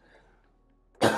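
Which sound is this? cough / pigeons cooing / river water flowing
cough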